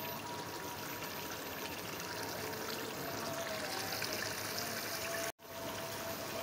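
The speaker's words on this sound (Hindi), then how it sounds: "और अब इतना पानी शामिल कर देते हैं कि जितना हमने शोरबा रखना है।" Water pours steadily into a pot of cooking mutton shorba, a continuous close trickling stream that cuts off abruptly for a moment near the end.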